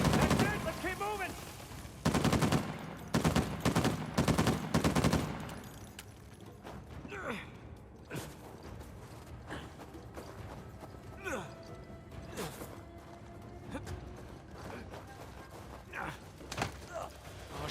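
Sniper gunfire in Uncharted 4 gameplay: a burst of loud, sharp cracks crowds the opening seconds, then sparser distant shots and impacts scatter through the rest alongside game sounds and a voice.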